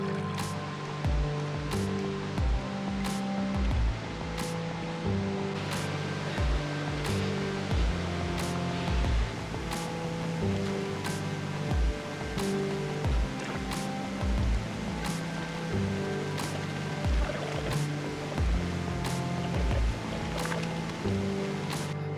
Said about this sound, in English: Coming up on our first waterfall of the journey.